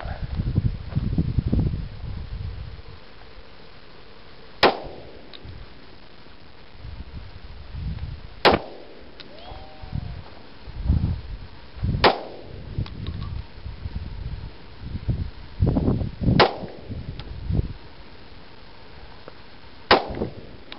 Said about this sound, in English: Be firing 5 rounds of blazer and 5 rounds of PMC.